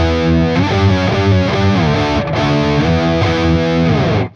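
Heavy distorted electric guitar plays a riff low on the sixth string, thick sustained power chords moving in a steady, smooth phrase, loud and close, alone until it cuts off at the end.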